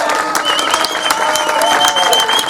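A crowd gathered at a picket line outside an EDF power plant, occupied by striking workers for 54 days, applauds loudly and steadily, with dense clapping mixed with cheers and whistles.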